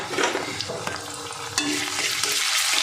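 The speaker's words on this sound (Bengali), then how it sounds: "পেঁয়াজটা একটু ভেজে নিলাম।" Chopped onion frying in a pan with ginger paste, a loud continuous sizzle broken by scraping stirs and a few sharp clinks of a spoon against the pan.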